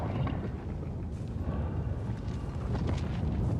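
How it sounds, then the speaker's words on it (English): A lava geyser erupts in the video game Helldivers with a loud, continuous roaring rumble, dense and gritty with bursts of crackle, heard alone without speech. "Perfect timing. Thank you, lava geyser."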